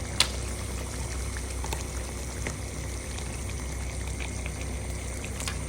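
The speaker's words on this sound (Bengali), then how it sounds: "এই যে ডাউল, ডাউল সিদ্ধ হচ্ছে।" Mung and masoor dal lentils boiling in a pot, a quiet continuous bubbling and simmer with a few soft pops and drips, heard alone with no talking.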